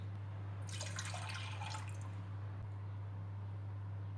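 Milk being poured for a béchamel sauce, a brief liquid splash and trickle lasting about a second over a steady low hum, then quiet.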